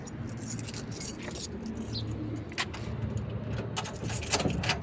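A bunch of keys jangles and rattles close by, mixed with outdoor ambience near a bike being readied for a ride.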